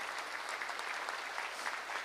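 An audience at an evangelical meeting applauds steadily, a dense, even clapping from a crowd that holds at a constant level throughout.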